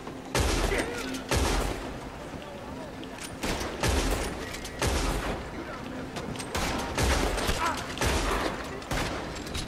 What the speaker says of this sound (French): Les mecs ils me tirent dessus.